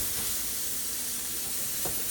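Steak sizzling in a pan just after being turned with a fork, a steady broadband hiss holding at moderate level for the whole stretch with a faint crackle near the end.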